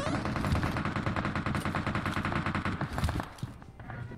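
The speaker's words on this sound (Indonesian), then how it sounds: "Kok ada tembakan?" Rapid automatic gunfire rattles continuously in PUBG Mobile, dense bursts of shots with a brief lull near the end.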